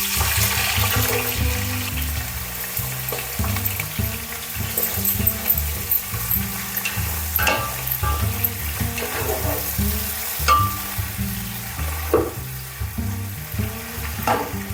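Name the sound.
chopped onions frying with garam masala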